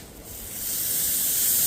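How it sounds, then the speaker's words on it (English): Tri-tip steak sizzling on a hot grill, a steady bright hiss that swells slightly louder over a couple of seconds, with no talk. "Oh, love that sizzle"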